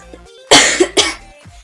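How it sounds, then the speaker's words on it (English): A person coughs twice in quick succession, close to the microphone and loud, with a faint breath before and after and no talking. "Sorry if I'm coughing, guys."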